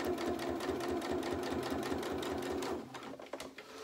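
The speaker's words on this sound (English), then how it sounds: "Top stitching, so keep your speed down." A sewing machine top stitches a shirt seam in a steady, fast run for nearly three seconds, then slows and stops with a few softer clicks.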